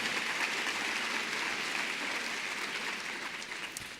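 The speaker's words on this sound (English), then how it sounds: "Can we give them a round of applause?" An audience at a back-to-school event gives the kitchen staff a round of applause, a soft, distant wash of clapping that holds steady and tapers slightly toward the end.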